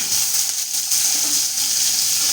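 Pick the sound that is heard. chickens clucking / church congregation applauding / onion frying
onion frying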